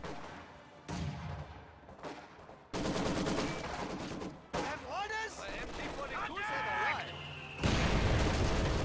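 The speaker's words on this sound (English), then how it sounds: "Mortar bombarding the riflemen on the point brings them quite low, though." Mortars and riflemen trade fire in a Company of Heroes battle, with bursts of gunfire and heavy booming impacts in loud clusters separated by short lulls, and voices shouting over the combat.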